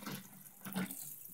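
Water running and splashing as it is poured into a bath for a pet, with a steady, close hiss that swells briefly near the middle and carries no talking.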